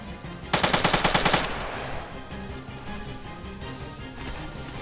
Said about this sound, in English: One has a gold minigun.